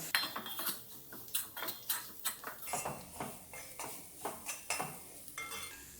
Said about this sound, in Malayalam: അപ്പോൾ പൊടികളെല്ലാം ചേർത്ത് കഴിഞ്ഞു നന്നായിട്ട് ഒന്നും കൂടെ മിക്സ് ചെയ്ത് കൊടുക്കാം